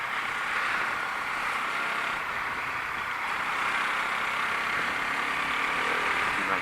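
A motorbike engine idling steadily after a battery change, a continuous even hum at moderate distance with no talking.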